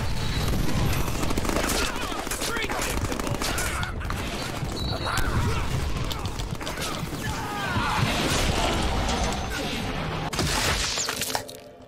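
Rapid machine gun fire from the Deadpool video game on PS3 rattles on in continuous bursts. It stays loud for most of the stretch and is layered with explosions, breaking debris and other game noise.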